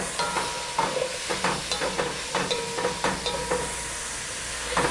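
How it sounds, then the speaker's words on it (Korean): Radish stir-frying with anchovy fish sauce in a pan, a utensil scraping and stirring in a steady rhythm of repeated strokes over a constant hiss, close by. "무수 자체도 볶이면서 물이 나오기 시작해요"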